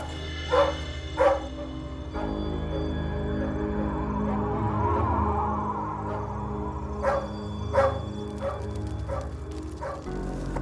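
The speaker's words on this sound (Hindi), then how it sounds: "चेक तो मैंने भी किया, सब ठीक ठाक है, फिर भी ये भौंक रहा है।" A dog barks in sharp pairs, first near the start and again later, over a steady background hum.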